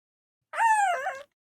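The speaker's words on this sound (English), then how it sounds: "People have been known to hear this Pokemon howl over several hours for absolutely no reason." A short dog-like Pokémon cry from the Pokémon Edge Rising video game, a single clear yelping whine lasting under a second, alone in silence.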